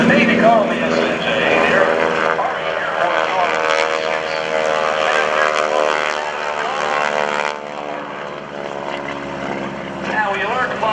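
A North American T-6 Texan flies at an airshow, its radial propeller engine droning loudly and steadily with a rich harmonic buzz, while a commentator speaks over a public-address system.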